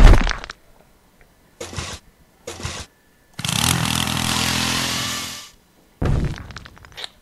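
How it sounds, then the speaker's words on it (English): A loud, harsh mechanical whirring burst from a drill in a prison escape video game lasting about two seconds, bracketed by short clattering thumps and noisy game effects. "Let's try the drill."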